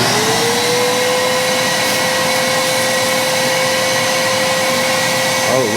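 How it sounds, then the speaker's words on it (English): A vacuum cleaner hooked up with duct tape runs steadily and loudly throughout, a constant whining motor drone with a high tone that rises as it spins up. "some duct tape hooked up to the good old vacuum cleaner"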